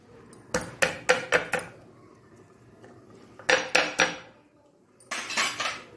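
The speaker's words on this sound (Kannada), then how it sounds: "ಇದಕ್ಕೆ ಈಗ ಇಲ್ಲಿ ನೋಡಿ 4-5 ದೊಡ್ಡ ದೊಡ್ಡ ಬೆಳ್ಳುಳ್ಳಿಗಳನ್ನು ನಾನಿಲ್ಲಿ ಗುದ್ದಿಕೊಳ್ತೇನೆ." Four or five large garlic cloves get pounded for a Mangalore cucumber and jackfruit seed sambar, making sharp, hard knocks in quick bursts of four or five, with quiet pauses between the groups.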